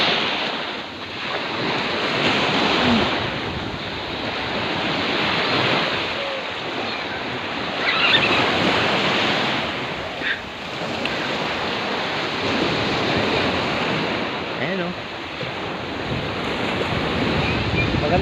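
Ocean surf rolls continuously onto the beach at Balai Malena beach resort, a loud, steady wash with strong wind buffeting the microphone.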